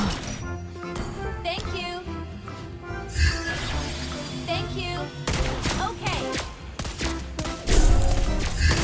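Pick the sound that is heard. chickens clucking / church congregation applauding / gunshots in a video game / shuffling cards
gunshots in a video game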